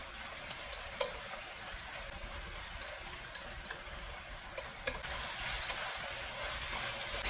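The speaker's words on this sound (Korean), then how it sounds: "이렇게 중불에서 2분 정도 더 볶아줍니다" Onions stir-fry with soy sauce and perilla oil over medium heat in a steady, soft sizzle, with scattered light ticks of a utensil against the pan and a slightly louder hiss near the end.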